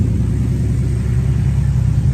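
A classic muscle car with hideaway headlights, power brakes and power steering idles close by with a steady, deep, even rumble and no talk over it.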